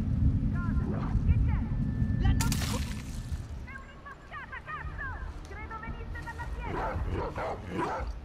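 A dog barks and yelps in a tense scene of The Last of Us Part II, with sharp repeated barks and whimpers over rumbling game sound, and someone talks over parts of it.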